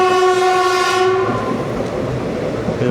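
A passenger train in Kerala, running between Thrissur and Shoranur, sounds a loud sustained horn for about a second over the steady rumble of the carriages on the track.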